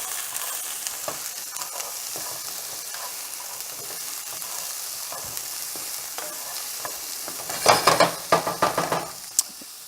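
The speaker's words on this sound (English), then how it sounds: "you just want to give it a big stir to incorporate everything" A chorizo, potato and vegetable breakfast hash with garlic gets stirred in a sizzling pan. Soft, steady frying runs throughout, and a cluster of louder scraping, clattering stirs comes near the end.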